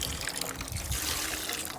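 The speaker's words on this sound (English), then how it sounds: "So we keep pouring slowly on the logs" Water poured slowly onto hot campfire logs makes a soft continuous trickling hiss and sizzle, close and fairly quiet, with no talk.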